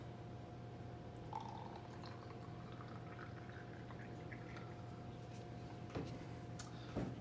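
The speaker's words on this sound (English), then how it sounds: "I'm gonna fill this little bottle of diazo up to the shoulder right here with water" Room-temperature tap water pours and trickles softly into a small bottle of diazo emulsion sensitizer over a steady low electrical hum, with faint clinks near the end.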